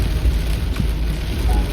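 Heavy night rain pounding a Daihatsu Ayla 1.2 during a road trip, a constant loud wash of drops over a deep cabin rumble.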